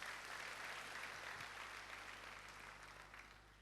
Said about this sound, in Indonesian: Kita berikan tepuk tangan buat Tuhan dulu.